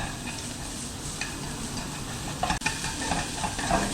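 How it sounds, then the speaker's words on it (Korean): Beef cooks in a pan over low to medium heat, giving a steady close sizzle and fry with stirring and a few light scrapes and clicks, and no one speaks. "이렇게 해서 고기를 다 익혀주시고 약한 불이나 중간 불로 해주셔야 고기가 타지 않으면서 속까지 다 익습니다"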